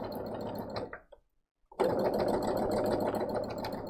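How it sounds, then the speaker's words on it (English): A sewing machine runs steadily in free-motion quilting, its fast, close motor hum and rapid needle chatter cutting off for about half a second before starting again at an even, constant speed. "this is a good speed for me to go for when I am free-motion quilting"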